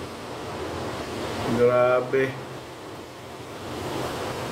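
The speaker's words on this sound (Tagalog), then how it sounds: "Lakas ng hangin." Strong signal no. 10 typhoon wind in Macau roars and buffets the microphone in a loud, continuous whoosh, with a man's brief exclamation in the middle.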